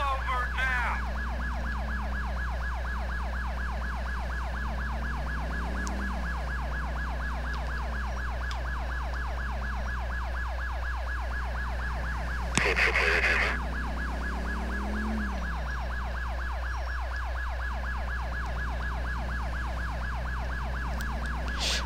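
Police car sirens from GTA IV wail continuously and steadily, a loud cycling tone with an engine rumble beneath and a brief louder burst midway; no talking.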